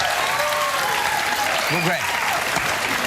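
Studio audience applause on a live morning talk show fills the clip as a steady, dense wash of clapping, with a brief word spoken over it.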